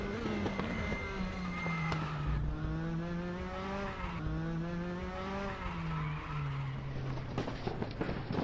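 A sim racing game car engine at Hockenheim drones steadily, its pitch rising and dipping through gear changes, with a faint squeal of tires as the car gets loose under acceleration.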